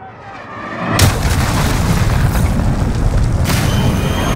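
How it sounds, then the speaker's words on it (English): A cruise missile strike in Call of Duty Modern Warfare during a team deathmatch lands as a loud, close boom with a long rumbling roar that keeps going, with a second blast-like swell near the end. "Enemy cruise missile."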